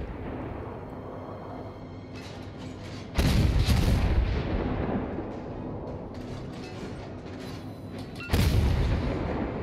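Naval guns on a premium gunboat in World of Warships fire two heavy, booming salvos several seconds apart, loud and close over a steady low engine and sea rumble.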